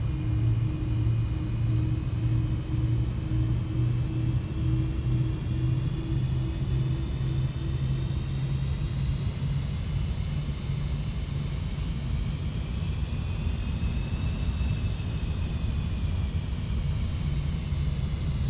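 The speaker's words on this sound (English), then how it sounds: "Apply some engine power." A deep, steady engine rumble with a rising whine layered on top, as a TWA MD-80 airliner's engines spool up in Microsoft Flight Simulator, loud and continuous for the whole stretch.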